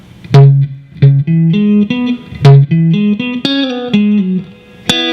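Electric guitar lick from a song, clean picked notes moving through fourths in two rising phrases with crisp attacks, played alone and close.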